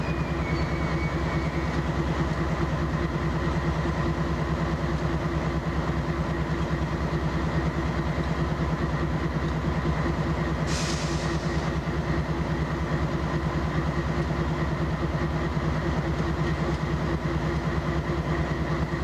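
A CP Rail coal train with distributed power rumbles past, a steady low drone of engines and rolling cars that holds unbroken throughout, with a brief higher squeal partway through.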